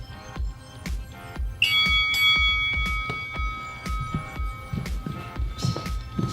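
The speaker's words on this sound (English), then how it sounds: "I'm gonna push this bell, and then you guys are gonna go." An electronic bell rings to start taekwondo sparring, a sustained ringing tone cutting in partway through over a busy gym of thumping footsteps and movement, fading after a few seconds.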